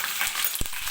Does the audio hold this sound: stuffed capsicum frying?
yes